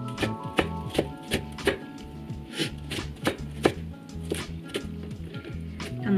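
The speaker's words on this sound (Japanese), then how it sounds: "まずはじめに玉ねぎをみじん切りにします。" Kitchen knife finely chopping a new onion on a board, a fast, steady run of crisp close taps over soft background music.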